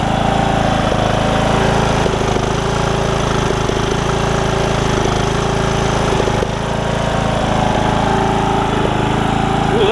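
A Briggs and Stratton single-cylinder riding mower engine with a replaced carburetor runs steadily at a loud, even, rough chug throughout, close by with no talking.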